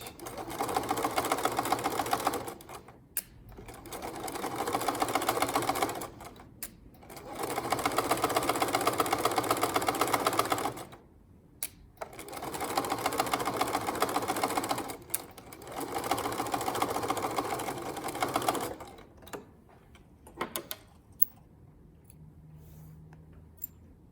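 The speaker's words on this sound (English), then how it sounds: "I'm ready to sew a straight seam. Back stitch." A sewing machine runs a straight seam in several long bursts with short pauses between them, including brief reverse back stitches, loud and close with no talk.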